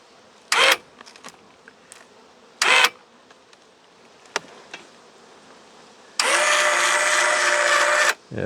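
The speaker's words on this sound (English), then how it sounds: "Last time I managed doubles, I didn't have this hive lifter, so now I have the advantage of a machine to literally do the heavy lifting for me." A motorized hive lifter raises a beehive with a steady electric motor whir lasting about two seconds. Short knocks and bee buzzing come before it in a quiet outdoor apiary.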